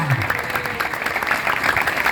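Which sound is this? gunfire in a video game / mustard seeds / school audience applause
school audience applause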